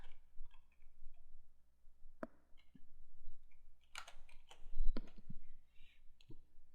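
Computer keyboard keys clicked while building a website's Contact Us page, a few sharp isolated taps and clicks spread unevenly over quiet background hum, close by and moderately soft.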